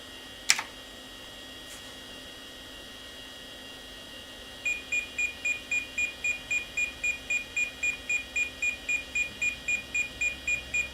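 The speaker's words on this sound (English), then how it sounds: "the beeping is in no way annoying" A computer emits a steady run of short, evenly spaced electronic beeps during a system speed test, with a brief click near the start and a faint background hum.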